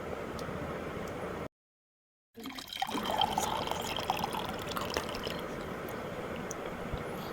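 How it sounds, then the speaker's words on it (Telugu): Tender coconut water is poured into a glass, a steady liquid trickle and splash running continuously, briefly cut by a moment of silence before the pour resumes and keeps flowing. "గ్లాస్ తీసుకురా, పోసేద్దాం గ్లాసులో"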